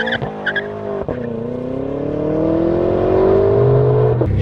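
A Lamborghini Aventador engine rises steadily in pitch as it accelerates hard, loud and close, with a brief sharp blip near the start and a gear change near the end.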